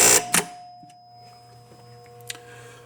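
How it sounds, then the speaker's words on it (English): A sharp metallic ring opens on a Williams pinball machine, followed by a second hit, then a steady electronic hum with a quieter ding near the end. "that also activates our buzzer here"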